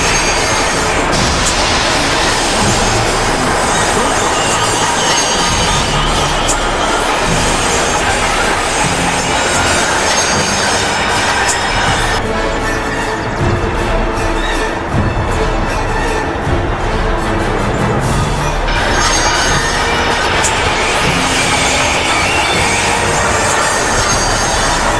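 A steam engine working hard along the railway, loud and close, with a continuous heavy rumble and rushing noise and a metallic rattle of wheels throughout.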